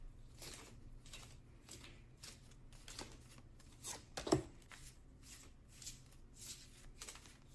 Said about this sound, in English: the deck that I have been shuffling is my Dragon Wisdom deck